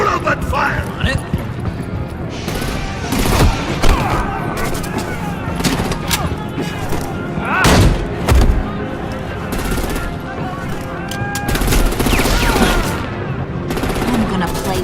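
Rapid gunfire rattles in bursts throughout a fight scene in the video game Batman: The Enemy Within, with heavy shots and booms mixed under loud, shouting voices.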